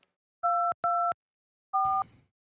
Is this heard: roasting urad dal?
no